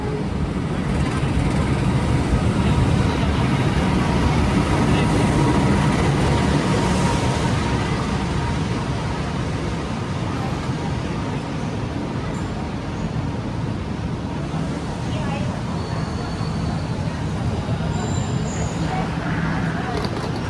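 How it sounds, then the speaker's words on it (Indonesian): An Argo Dwipangga luxury train pulls into platform 3 of a station on the Jakarta–Solo route, a steady low rumble and rolling roar filling the scene throughout without distinct horn blasts. "ini kereta api Argo Dwi Pangganya udah datang di jalur 3"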